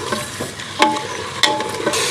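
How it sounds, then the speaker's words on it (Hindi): Small beef pieces fry in a pot for tarka daal, giving a steady sizzle broken by a few sharp stirring clatters from a spoon against the pot, close and fairly loud with no talking. "गोश्त को वाइट होने तक हम भून लेंगे।"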